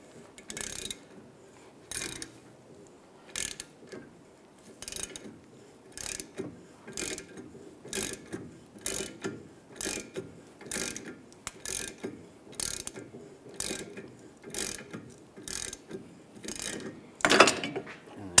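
A ratchet tightens a hub puller on a Volkswagen Beetle front wheel hub: a long series of sharp, close ratcheting clicks in short bursts with brief pauses, one louder clatter near the end.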